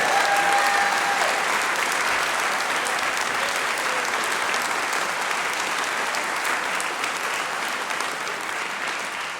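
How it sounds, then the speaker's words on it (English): An audience at the Fairmont Performing Arts Hall of Fame induction ceremony gives sustained, dense applause for three inductees, a thick even roar of clapping with a brief whistle early on, holding steady and easing slightly at the end. "How about another round of applause for all three of our newest inductees into the Fairmont Performing Arts Hall of Fame."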